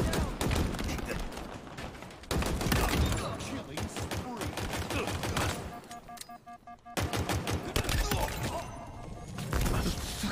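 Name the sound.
grenade explosions in video game Halo Infinite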